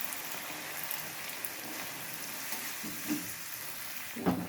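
Puris fry and puff in hot oil, a faint, quiet crackling sizzle with a few brief louder pops and bubbling bursts toward the end.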